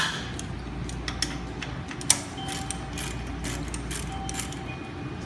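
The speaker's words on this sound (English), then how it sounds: "You're going to carefully loosen your oil drain plug." Ratchet loosening the oil drain plug on a 50cc GY6 scooter, a run of soft metallic clicks and a sharper crack near the middle as the plug breaks free, close and quiet with no talk.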